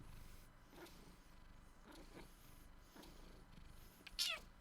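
A cat in Skyrim meows as it is petted, giving a few soft, scattered calls over low game ambience, with one louder, sharper meow near the end.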